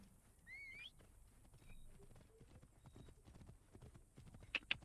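Horse hooves clip-clop at a walking pace in the video game Assassin's Creed Origins, a quiet, rhythmic patter with faint ambient background, a brief whinny-like tone and a couple of sharper knocks near the end.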